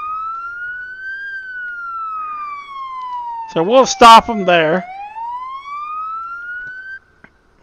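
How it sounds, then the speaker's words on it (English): A police siren in the video game BeamNG.drive wails steadily, rising and falling, while someone speaks briefly over it near the middle. "Turn off the siren."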